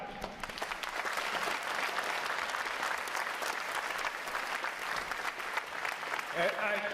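A large crowd at a U.S. Navy boot camp graduation applauds Rear Admiral Kajak, sustained, even clapping heard from a distance, with a voice briefly audible over it near the end.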